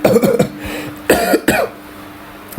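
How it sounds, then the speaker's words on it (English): A man coughs several times up close, a pair of harsh rough bursts at the start, then two more separated by a short pause, loud and dry with little else around. "I'm coughing right now because I'm getting a little emotional"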